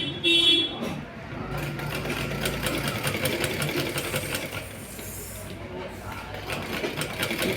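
A sewing machine stitches frills onto chudi pants, a steady rapid mechanical rattle running close and continuous after a brief louder burst at the start.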